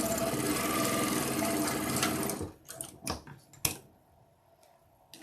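A sewing machine runs in a fast, steady stitching rhythm on a quilt block for a couple of seconds, then stops, followed by scattered clicks and light handling sounds close by.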